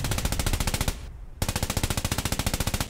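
A tank's machine gun in the WWII game Post Scriptum hammers out fast, loud, evenly spaced bursts, breaking off for a brief pause before resuming the same rapid rattle.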